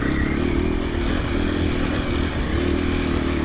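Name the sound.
KTM 500 EXC-F dirt bike engine riding in third gear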